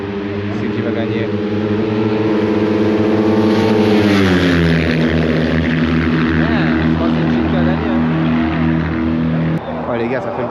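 A racing motorcycle engine roars close by at high revs, its pitch sliding down as it blasts past, loud and continuous throughout.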